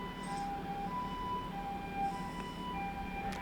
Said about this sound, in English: I don't know if y'all hear that siren.